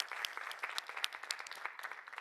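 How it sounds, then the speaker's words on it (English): A seated audience at a COP28 evening event applauds the cohort members, with dense, crisp clapping and a few sharper individual claps standing out at steady moderate volume. "So once again, give yourself a round of applause."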